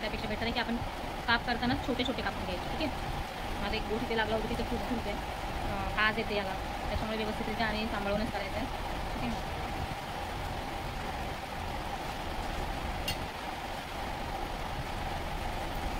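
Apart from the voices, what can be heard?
heavy rain falling on metal roof sheets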